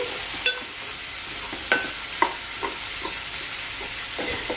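A tomato and egg curry base fries with salt until golden and the raw smell is gone, giving a steady, fairly quiet sizzle with a few separate clinks and scrapes as it is stirred.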